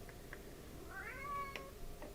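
A single cat meows softly indoors, a faint drawn-out call rising then falling, heard alone over quiet room noise with a couple of small clicks.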